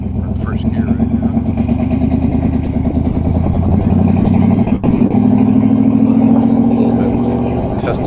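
A 1968 Camaro engine pulling hard in first gear, a loud close throaty rumble whose pitch climbs steadily, with a brief dip partway through before the drone rises again.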